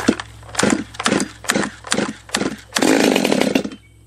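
Stihl, Husqvarna 200T or 338XPT top handle chainsaw being started on full choke: five short pulls on the starter cord, each a brief sputter, then the engine catches in a loud rough burst that quickly dies, close by.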